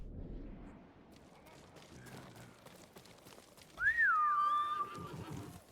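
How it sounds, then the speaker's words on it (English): Horse in the samurai game Ghost of Tsushima lets out a loud, rising-then-falling whinny near the end, following quieter rumbling game ambience and scattered effects. "Oh, there's my horse."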